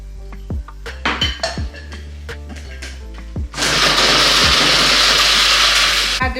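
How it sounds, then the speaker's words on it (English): Dry fried shrimp is ground in a dry blender, first a series of clinks and taps, then a loud steady whirring roar for a few seconds before it cuts off. "I'm blending my fried shrimps. I'm using dry blender"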